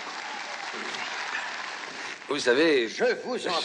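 Applause from an audience at a gathering, a steady broadband patter lasting a few seconds before a voice speaks over it and the clapping thins out.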